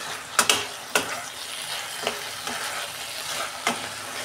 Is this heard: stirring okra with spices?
yes